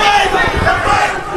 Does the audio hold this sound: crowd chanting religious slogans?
yes